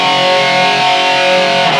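A loud, sustained electric guitar chord or riff through overdrive and chorus, with a dense distorted tone that rings steadily throughout.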